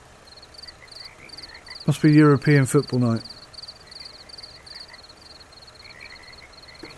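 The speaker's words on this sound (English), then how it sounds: "A lot of frogs around here." Frogs croak at night in a Fernbus Simulator scene near the Allianz Arena, a steady chorus of repeated croaks and insect chirps running throughout, with a brief burst of talk in the middle.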